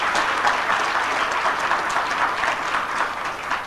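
Steady, enthusiastic applause from a large church congregation, many hands clapping in a thick wash that holds strong throughout.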